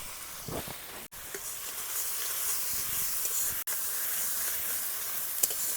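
Grated tomato and turmeric hit hot oil in a pan with a steady, bright hissing sizzle that continues evenly throughout, fairly faint, with no talking.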